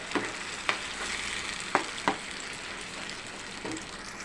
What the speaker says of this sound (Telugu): అప్పుడు టమాటా క్యూరిని వేసుకుందాం ఇది కూడా ఒక ఫైవ్ మినిట్స్ వేగాలి